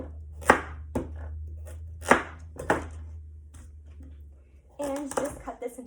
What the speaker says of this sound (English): So I'm just going to cut the tops and the bottom off these.